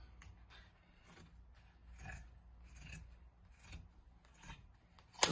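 Scissors snip through a t-shirt being cut into a tote bag, giving a series of soft, rasping cuts at an uneven rhythm, close and fairly quiet, with a sharper sound right at the end.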